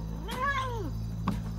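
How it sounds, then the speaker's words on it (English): A cat gives one drawn-out rising and falling meow, followed by a brief shorter chirp, heard alone and at moderate distance. "You're no good to anyone as a cat."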